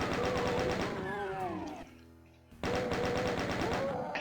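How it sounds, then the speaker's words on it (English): Rapid, sustained chaingun fire from a room full of chaingunner enemies in DOOM, loud continuous bursts that break off briefly mid-clip before resuming at full intensity. "This is a room full of chain gunners."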